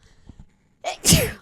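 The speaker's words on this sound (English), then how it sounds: "I'm gonna sneeze" A single loud sneeze with a sharp inhale just before it, close to the microphone, following a few faint background murmurs.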